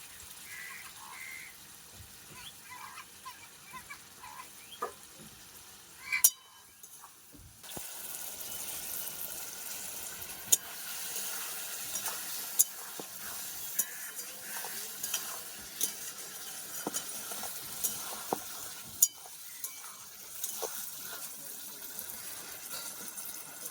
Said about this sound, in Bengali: সবজির সঙ্গে মশলাটা ভালো করে কষিয়ে নিয়েছি